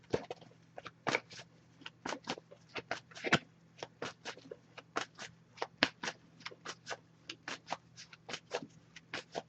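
Tarot oracle cards are shuffled and pulled from a deck, giving a quiet, close series of irregular crisp card riffles and snaps with no talking.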